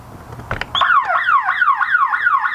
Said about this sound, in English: that 150 decibel alarm is quite loud and will scare off anybody trying to break into your vehicle